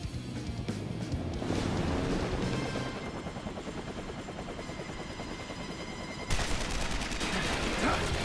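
Rapid bursts of gunfire in Persona 5 Strikers rattle over a thick wash of engine roar and action noise, loud and continuous, with a sharper surge near the end.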